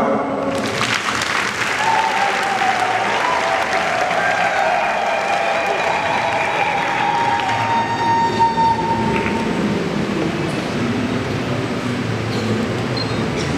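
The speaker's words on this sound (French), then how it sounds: "On acclame." Applause at a church wedding: a dense, sustained clapping from the congregation fills the room for over ten seconds, with faint tonal music beneath it and a brief voice near the start.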